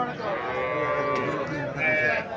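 A cow moos loudly and close by at a cattle market, one long drawn-out tonal low that holds for about two seconds and rises slightly near the end, with no talk over it.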